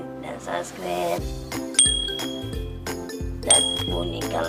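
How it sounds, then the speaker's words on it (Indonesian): A bell-ring sound effect chimes twice, each a bright short ding, over a background of music. "Dan bunyikan lonceng di bawah ini."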